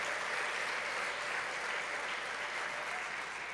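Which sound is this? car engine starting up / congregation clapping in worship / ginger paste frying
congregation clapping in worship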